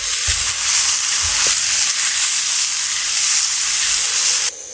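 Marinated pork hits hot oil in a wok over high heat, giving a loud, steady, close sizzle with a couple of dull utensil knocks near the start and no voices.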